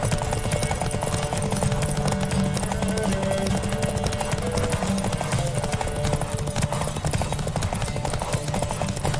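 A horse's rapid hoofbeats pound in a steady galloping rhythm in The Witcher 3: Wild Hunt, up close and continuous, with faint music and game sounds underneath.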